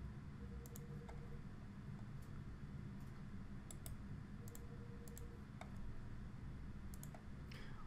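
Mouse clicks while picking a prairie evaporite top along a curve in geology interpretation software, several scattered sharp ticks spaced irregularly over a steady low hum.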